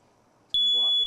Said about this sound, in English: That's the alarm you're going to hear.